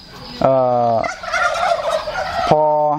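Domestic turkeys on a Thai village farm gobble loudly together in close, rapid bursts, with a chorus at the start, a burbling stretch in the middle and another gobble at the end.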